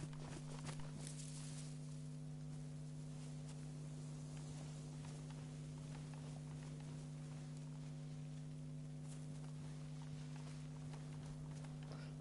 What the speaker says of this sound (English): Thought I could hear footsteps then.